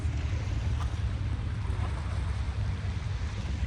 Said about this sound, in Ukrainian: корабль просто проїхав